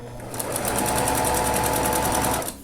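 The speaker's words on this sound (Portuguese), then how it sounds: "Eu vou costurar e vocês vão ver, ó." A sewing machine runs steadily, stitching fabric under a presser foot, with a rapid even needle rhythm and motor whir, loud and close, with no voices.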